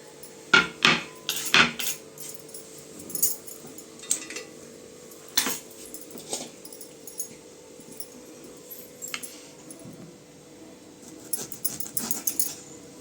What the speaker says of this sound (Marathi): चला आता लिंब आहे ना कापून घेऊ अगोदर